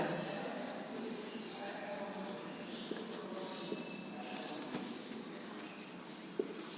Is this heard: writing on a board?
yes